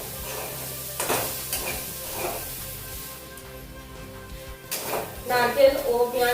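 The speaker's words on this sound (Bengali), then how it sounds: "মিহি করে কুচানো পেঁয়াজ আর দুটো চেরা কাঁচা লঙ্কা দিয়ে এগুলো একটু এই সবজির সাথে ভেজে নেব।" Chopped onion and two slit green chillies fry with vegetables in a pan for a Bengali mixed vegetable dal, a soft sizzle with stirring scrapes that grow louder toward the end, under a speaking voice.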